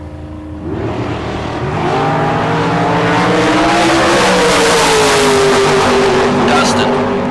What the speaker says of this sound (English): A couple of 63 Corvette Roadsters.